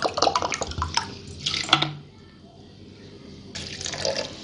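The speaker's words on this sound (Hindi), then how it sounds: "पानी हमने डाल दिया," Water poured from a glass into a jug holding sliced cucumber for a summer drink, two short splashing pours close by, then a quieter pause before a softer trickle resumes.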